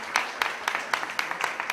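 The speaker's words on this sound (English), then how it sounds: "very glad to hear this applause" Audience applause in a hall after a rabbi's speech at a religion forum, coming in short bursts of clapping at a fairly steady beat, moderately faint and with no talk over it.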